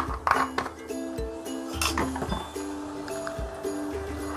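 A metal spoon clinks and taps against a pan or bowl while vinegar goes into stir-fried veg Hakka noodles, several sharp clinks at uneven intervals over a low kitchen hum.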